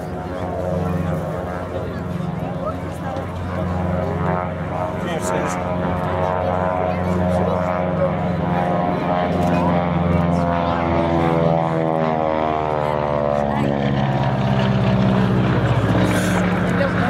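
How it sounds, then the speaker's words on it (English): A Beech 18 twin radial-engine propeller aircraft comes in for a solo display at Duxford, a steady throbbing drone that grows and shifts in pitch as it passes, while a commentator talks over it. "To the right, coming in for its solo display, Radial Revelations, Beech 18"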